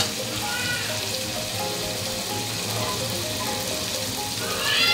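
Masala spices fry in a pan with a steady, close hiss and light crackle that holds evenly throughout, with no voices.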